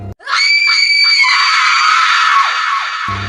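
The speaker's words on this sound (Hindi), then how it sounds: "उसकी चीख जंगल में गूंज गई" A girl's scream echoes through a forest in a spoken horror story, one long piercing shriek held for about three seconds, loud and close, alone with no speech over it.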